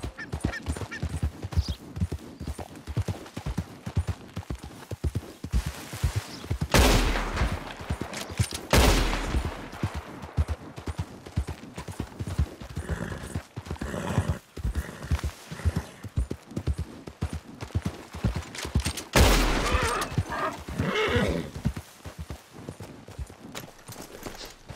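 Horse galloping in the video game Red Dead Redemption 2: steady rapid hoofbeats drum throughout, with a couple of louder thumps and crashes mid-way, close and fairly loud, no talking.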